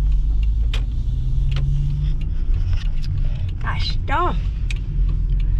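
A car driving along a dead-end street near a shop: a steady low engine and road rumble fills the cabin throughout, with a short squeaky whine near the end and someone briefly speaking.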